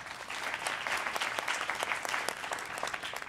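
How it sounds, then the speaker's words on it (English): An audience at a personal finance competition gives a steady round of applause, dense overlapping claps at moderate loudness continuing throughout without a break. "Round of applause, please."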